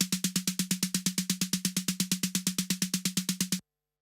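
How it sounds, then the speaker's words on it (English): A drum machine replays one drum sound 32 times in a rapid, machine-steady pulse, loud and uniform, almost motor-like, then cuts off cleanly to silence. "now we listen to when the drum machine plays it back 32 times, the same sound."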